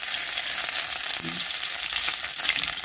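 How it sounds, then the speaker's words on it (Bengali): Chopped ginger hits hot oil in a wok while vegetables are being fried for a Maggi noodle dish, making a brief, loud, even sizzle with faint stirring. "এবার তেল দেব, দিয়ে এবার ভেজিটেবিলগুলো সব ভেজে নেব।"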